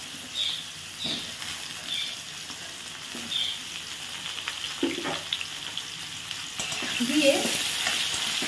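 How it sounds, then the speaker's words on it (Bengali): Potato and pumpkin pieces fry with salt and turmeric for a spinach mixed-vegetable dish, a steady soft sizzle in the pan broken by occasional scraping stirs, close and continuous. "একটু নুন আর হলুদ দিয়ে কিছুক্ষণের জন্য আলু আর কুমড়োটি ভেজে নেব।"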